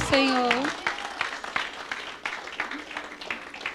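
A church congregation claps in praise, scattered, uneven claps from a room full of worshippers following a brief raised voice at the start, the clapping staying moderate and loose throughout.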